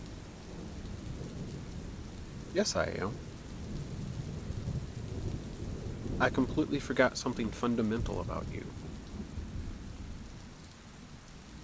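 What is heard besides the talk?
thunderstorm with thunder and rain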